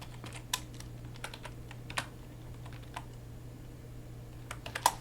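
Light typing on a computer keyboard, a sparse run of soft, quiet key clicks with an occasional sharper tap, over a low steady hum.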